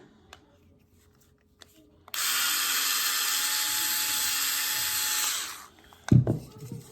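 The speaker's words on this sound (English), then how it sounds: "we'll go to the drill again for the bigger one" A power drill whirs steadily at high speed for about three seconds close up, widening a hole for a phone mount on an RC transmitter, then winds down, followed by a couple of clunks.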